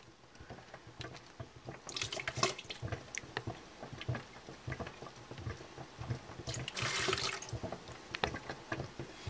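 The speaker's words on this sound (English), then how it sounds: "I'm going to take my turkey baster, suck up the water, get that out of there." Water drawn up with a turkey baster from the lid of a pot while making rose water, giving irregular small slurps, drips and gurgles, moderately close with louder wet bursts near the start and toward the end.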